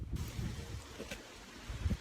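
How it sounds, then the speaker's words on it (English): Gusty wind sweeping over a boulder-strewn mountain trail in a wilderness area, a low steady rumble and buffeting against the microphone, fairly faint, with no voices. "You can still hear it's pretty windy now"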